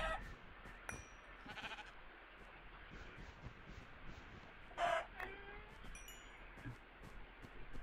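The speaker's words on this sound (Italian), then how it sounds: "Uccidiamo questi polli." Chickens in the Minecraft video game give a few short clucks and squawks, faint and spaced out over quiet background noise, with no talking.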